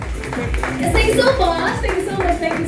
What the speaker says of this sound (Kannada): ನಿಮ್ಮೆಲ್ಲ ಜೋರಾದ ಚಪ್ಪಾಳೆ ಆಗಿದೆ ಬರಲಾದ್ರೆ